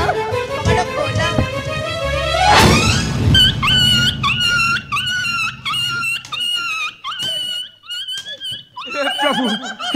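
A puppy shut inside a cupboard during a comic Odia jatra stage scene, giving short whines, squeaks and yelps in quick bursts, mixed with human voices and laughter.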